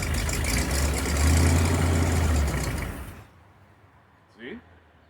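A 1975 Bricklin SV-1 engine, cranked with a little choke after long storage, runs loud and rough with a heavy low rumble for about three seconds, then cuts off abruptly, leaving quiet and a brief faint knock near the end.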